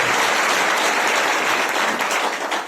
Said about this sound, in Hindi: हम सब भी उसके सम्मान में तालियां बजाएं।